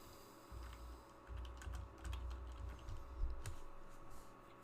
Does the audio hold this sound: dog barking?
no